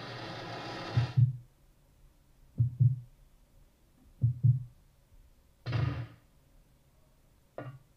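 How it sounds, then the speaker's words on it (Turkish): Heartbeat sound effect in Resident Evil Code Veronica, a slow, low, muffled thump-thump repeated several times at steady intervals, with a quiet hum and occasional softer noises between beats. "Çok heyecanlı, çok heyecanlı kalp atışları var."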